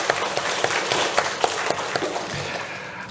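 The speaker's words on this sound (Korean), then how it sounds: "우리 하나님께 영광의 박수 올려드리겠습니다" A church congregation at Sunday worship applauds in praise to God, a soft, steady wash of clapping from many hands with a few sharper claps standing out, fairly distant.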